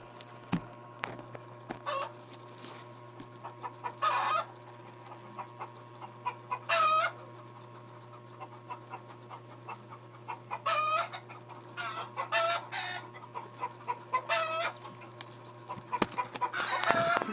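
A chicken nearby clucks in short repeated bursts and crows a few times over a steady low background hum, with no talking.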